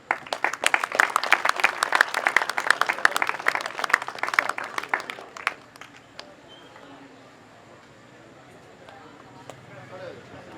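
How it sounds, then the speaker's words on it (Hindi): An audience applauds a prize winner at a festive gathering, a dense burst of clapping that fades out after about five seconds, leaving quiet background murmur. "माशाल्लाह, तालियां जी।"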